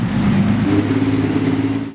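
A car engine idling and revving with a deep, throaty exhaust rumble, loud and close, steady before cutting off abruptly at the end.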